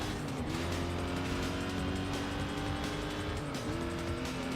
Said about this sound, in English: I would say I do like the engine sound of this car, but I prefer the upgraded Mustang sound.